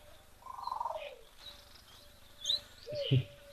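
A soft, low cooing note from a mourning dove, faint and brief. It is followed by scattered quiet chirps and clicks against a hushed background.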